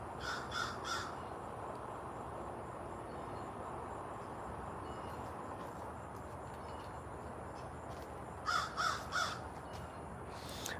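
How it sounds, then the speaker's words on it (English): A crow cawing in a garden, a few harsh caws at the start and another cluster of three near the end, moderately distant over a steady outdoor hum. "Yeah, it's a crow."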